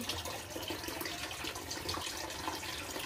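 Tap water runs steadily for a bath, a continuous close rushing and splashing that stays at an even level throughout with no talk over it.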